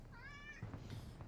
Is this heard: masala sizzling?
no